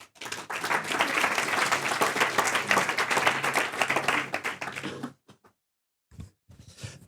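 Audience at a pitch event applauds warmly, a thick burst of clapping that holds for several seconds, then stops abruptly, leaving a few faint stray sounds and a voice starting.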